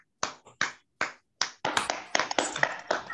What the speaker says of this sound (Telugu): క్లాప్స్ మా ఆల్ ఆఫ్ యూ